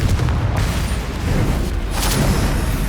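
A Bombarda blasting spell from the video game Hogwarts Legacy booms through dense, continuous battle noise, loud and sustained with low rumbling and a brighter burst near the end.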